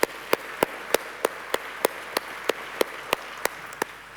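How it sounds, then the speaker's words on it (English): Regular single sharp claps spaced about every third of a second, faint and isolated against a quiet background rather than a full crowd, following a request to applaud delegates and speakers at a nation-building conference. "please, a round of applause."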